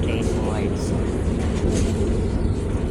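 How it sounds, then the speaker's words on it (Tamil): A passenger train runs smoothly on a trip to Bangalore, giving a continuous loud rumble and rolling hiss from inside the carriage. Faint voices sit underneath. "ட்ரெயின் வந்து நல்லா ஸ்மூத்தாக போகுது."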